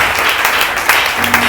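A church congregation breaks into steady, dense applause to acclaim the Lord, a full wash of clapping hands filling the room loudly and evenly for the whole moment.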